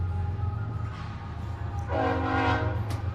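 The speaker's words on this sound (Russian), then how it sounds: "и какой звук сзади паровоза" A locomotive horn blares from a short distance, a faint low chord at first that swells into a loud, sustained multi-tone blast over a low rumbling rail background.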